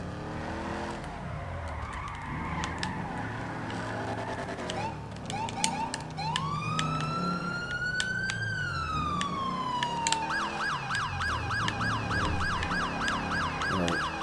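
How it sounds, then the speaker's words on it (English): A real LAPD police siren sound mod wails and yelps from a patrol car in GTA V's LSPDFR, loud and continuous, sweeping up and down and then switching to a rapid warble over engine and road noise. "I modded the sirens for real LAPD police sirens"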